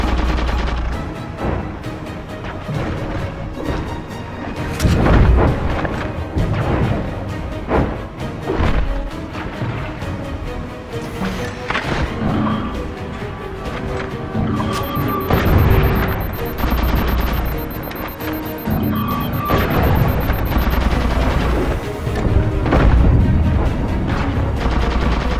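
Covenant Carbine fire in the Halo 4 video game: repeated sharp, punchy shots in bursts, layered with explosions and dense battle noise, loud and continuous with no talking.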